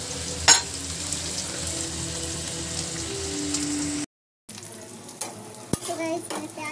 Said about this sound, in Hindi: मैंने प्याज भून लिए